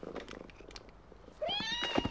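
A pet cat gives a drawn-out meow close by, preceded by quiet indoor rustling and faint low murmuring.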